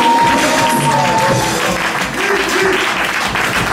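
Congregation applauding at a church service, dense steady clapping from a crowd filling the room, with a few voices calling out over it.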